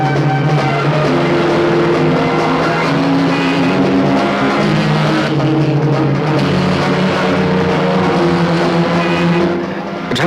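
A car driving fast, a loud, steady engine roar with a droning tonal layer running continuously throughout.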